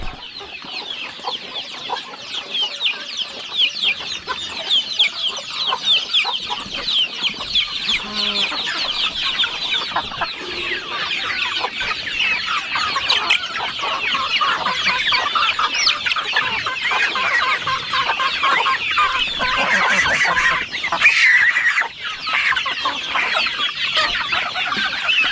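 A dense, continuous flock of hens and roosters clucking and squawking over one another, loud and steady throughout, with no talking.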